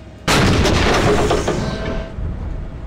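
A tank main gun fires an armor-piercing round at an enemy tank in the ArmA 3 military game, one loud, sudden blast that rolls on and slowly decays for about two seconds, heard close and alone.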